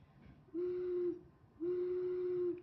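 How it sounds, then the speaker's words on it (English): Two steady low hooting whistle notes, each about half a second long, separated by a short pause, with a faint breathy edge. "So you can hear that low pitch."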